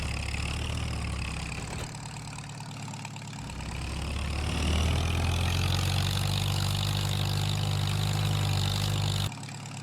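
Vintage tractor engine, an old WD model in Farming Simulator 25, idling steadily with a low rumbling drone that rises slightly in pitch and load midway before stopping abruptly near the end.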